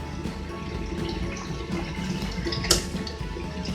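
Water pours into a cooking pot of carrots and potatoes for chicken afritada, a soft steady splashing and trickling at moderate distance with a brief brighter splash near the end.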